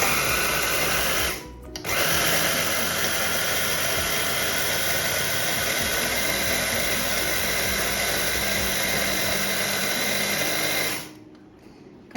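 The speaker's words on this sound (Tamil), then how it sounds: "நான் இதில் சீனியை போட்டு கொஞ்சம் அடிக்க போகிறேன், பிளெண்ட் பண்ண போகிறேன்" A kitchen blender grinds sugar in a loud, steady high-pitched whir that runs continuously for about ten seconds after a brief pause, then stops abruptly.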